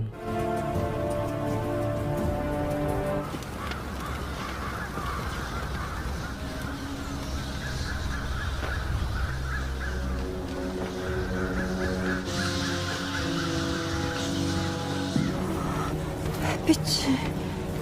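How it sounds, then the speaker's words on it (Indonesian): A flock of birds suddenly taking flight, with harsh crow-like cawing over loud background music and a dramatic scene, the calls rising and overlapping throughout. "Namun tiba-tiba burung-burung berterbangan"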